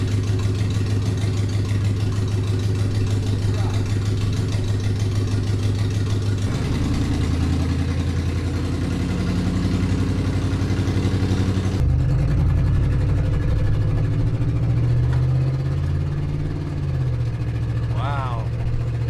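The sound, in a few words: 1996 Chevrolet 1500 pickup truck engine idling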